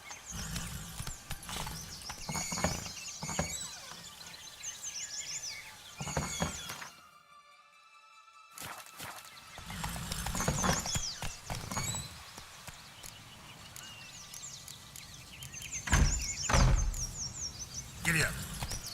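A horse trots in The Witcher 3, hooves clip-clopping in quick repeated bursts, paused briefly once, with game voices and a rider's call mixed in.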